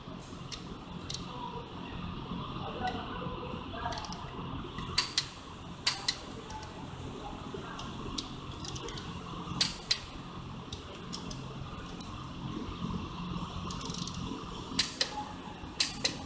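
A torque wrench clicks while bolts are tightened in a diagonal pattern, sharp separate clicks coming at uneven intervals over a steady mechanical background hum.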